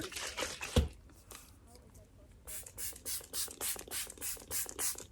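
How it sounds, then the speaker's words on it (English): A rapid series of short, hissing bursts of makeup setting spray onto a face in steady rhythm, close by, following a brief thump and a quieter pause. "Let me spray it on my face, because why not?"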